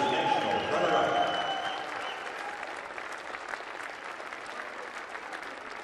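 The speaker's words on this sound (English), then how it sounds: "Fans, let's have a round of applause for Emory University" A crowd applauds Emory University at the 2019 NCAA volleyball championship ceremony. The clapping is loud at first, then fades to a steadier, thinner patter, with some crowd noise and faint voices mixed in.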